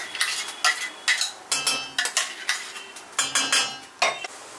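Ground paste being scraped and transferred into another cooking pot in a home kitchen while making soya chaap, with a series of sharp metallic clinks and scrapes of a utensil against steel vessels, close and without talk.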